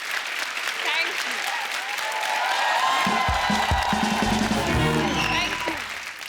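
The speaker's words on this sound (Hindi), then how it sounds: "इतनी लंबी तालियां इन्होंने कभी नहीं बजाई" A studio audience at a televised comedy show applauds at length, full and sustained clapping with some cheering, while a voice and low tones come in over the second half.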